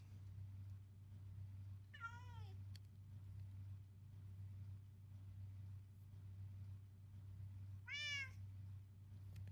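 A wither cat in the Minecraft video game gives two distinct meows, about six seconds apart, over a steady low background hum with no talking.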